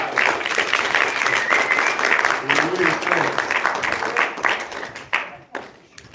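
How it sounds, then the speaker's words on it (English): An audience applauds Rick Ector at a Detroit gathering, dense clapping filling the room steadily for several seconds before thinning out, with voices mixed underneath. "Hey, let's give Rick Ector a round of applause."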